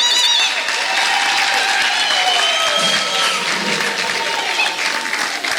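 A church congregation applauds for Jesus, a dense, steady wash of many hands clapping at close range that carries on throughout, with faint voices and a few whoops mixed into the crowd.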